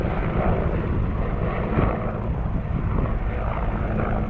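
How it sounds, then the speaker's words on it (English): Military helicopters flying overhead in the Czech Republic, a steady, loud droning engine rumble that holds evenly throughout with no voices. "those look like military choppers right there."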